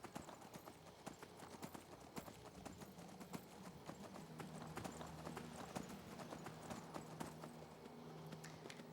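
Horse hooves gallop in a steady, fast clip-clop rhythm while riding a horse in the video game The Elder Scrolls V: Skyrim, loud and continuous throughout, with game ambience underneath and no speech.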